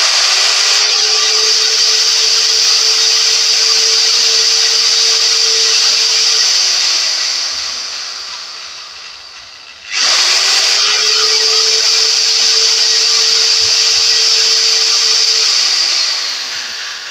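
Electric drill running with no load, a loud steady whine that spins down around the midpoint, goes quiet briefly, then starts up again and runs steadily before slowing at the end.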